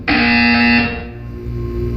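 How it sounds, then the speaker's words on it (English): In the Portal 2 video game, a loud harsh buzzer blares for nearly a second, then cuts to a fading hum with a low background drone. "You will hear a buzzer."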